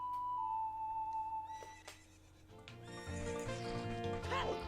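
A horse in the Ocarina of Time video game lets out a loud neigh and whinny, accompanied by game sound effects and music, with a faint hoofbeat-like tap.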